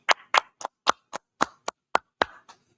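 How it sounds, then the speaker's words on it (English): Members of a Wednesday law class clap in a sparse, uneven sequence of about ten distinct, sharp claps, close and fairly loud against silence. "Let's clap it up for Wednesday law class."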